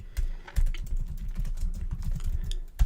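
Computer keyboard typing, a close, steady run of soft rapid key presses with a few heavier thumps, continuous for a few seconds with no talk.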